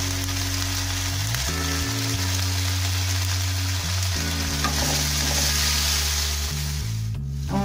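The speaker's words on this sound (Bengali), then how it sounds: "আমার মশলাটা অনেক ভাজা হয়ে গেছে, তেলও বেরিয়ে গেছে" Turmeric and red chilli powder fry in hot oil for Bengali prawn malaikari, a loud, constant close-up sizzle with occasional stirring, accompanied by background music throughout.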